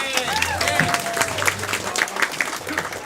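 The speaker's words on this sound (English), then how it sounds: "Clap for being a good sport." An audience claps at a live family event after a game, the applause steady and fairly close for a few seconds, with a presenter's voice and cheering mixed in.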